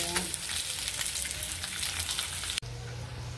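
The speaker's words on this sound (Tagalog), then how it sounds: "Hintayin natin sa maprito-prito." Pork fries in hot oil for a spicy dinakdakan, a loud, close, continuous sizzle with sharp spattering pops, broken by a brief clatter before a quieter, lower hiss continues.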